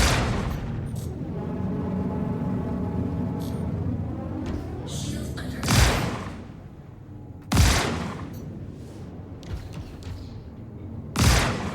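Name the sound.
shotgun fire in video game Star Citizen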